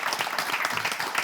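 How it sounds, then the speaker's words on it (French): An audience claps warmly for a champion, a dense, even patter of many hands close by, lasting the whole brief moment without pause. "je demande qu'on vous applaudisse encore très, très fort"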